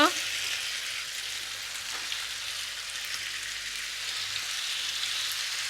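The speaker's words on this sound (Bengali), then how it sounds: "ফুলকপিটা দিয়ে ভালো করে মশলাটা নেড়ে ফুলকপির ভেতর ঢুকিয়ে দিতে হবে" Cauliflower pieces fry in a pan of ground masala, giving a steady broadband sizzle that holds for several seconds. Faint scrapes of stirring sit underneath, with no voices over it.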